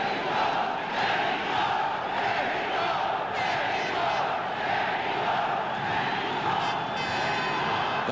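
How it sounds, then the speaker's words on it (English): A boxing crowd at a world welterweight title fight chants "Mexico" for Jose Napoles, a loud, sustained, rhythmic roar of many voices that swells and repeats throughout. "The crowd chanting Mexico for Jose Napoles."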